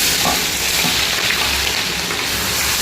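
Ginger, garlic and green chillies fry in oil as the base for a catering-style chicken roast, a loud, steady, close-up sizzle with a faint bubbling edge and no talking.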